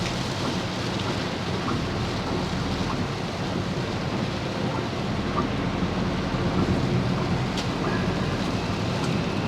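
Steady heavy rain drums on a small Daihatsu Ayla hatchback driving a toll road in Banten, with a constant low rumble of thunder and road noise beneath a continuous wash of rainfall.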